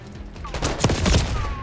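SMG gunfire in the Black Ops 6 beta, a short, loud cluster of rapid automatic shots with a few sharp cracks standing out.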